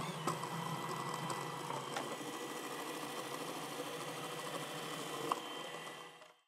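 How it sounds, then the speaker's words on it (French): A food processor cuts peeled potatoes into fine julienne, giving a steady, even motor whir with a faint rattle. It runs unbroken for about six seconds, then stops, with no voices. "je les mets dans le robot pour les couper en fines juliennes"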